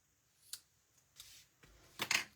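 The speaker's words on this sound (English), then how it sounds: "Let me use these scissors" Scissors snip cardstock for a card craft, a few quiet, separate cuts and rustles with one sharper double snip near the end, close and faint.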